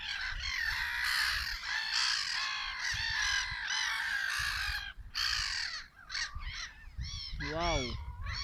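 Outdoors, crows and other birds caw and call loudly and continuously in a dense chorus, with a sharper honking call near the end, while a person talks under the noise.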